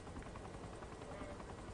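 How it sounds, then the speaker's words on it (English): The Eagle helicopter in the video game Saints Row the Third, idling on a military base helipad, gives a steady, dense rotor and engine roar that fills the background evenly without breaks. "Okay, this is the Eagle, and this is a pretty badass helicopter right here."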